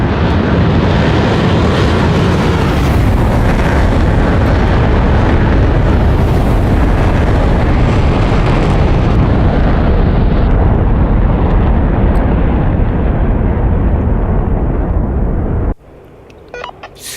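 A Dassault Mirage 2000 C fighter jet roars past as a loud, continuous, broadband jet rumble that holds steady for about fifteen seconds before cutting off abruptly into quiet background noise.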